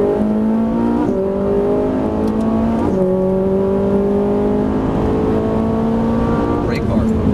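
A Ferrari 458 Italia V8 accelerating on a race track, loud rising engine pitch that climbs through gear changes with short dips between shifts, heard from inside the car under a driver's occasional talk.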